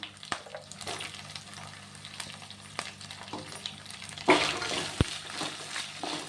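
Ten green chillies frying in a pan for samiya upma, a steady low sizzle with faint stirring clatter and a couple of sharper utensil knocks near the end, no voices.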